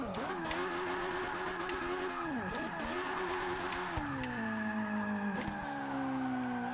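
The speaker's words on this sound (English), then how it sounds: "This is the sort of car that I think you should learn to drift in because it gets the back end out so easily" Lotus Elise tuned to 775 bhp drifting around Indianapolis Speedway in Forza Motorsport 6, a steady high engine drone with long tire squeals and shifting revs throughout.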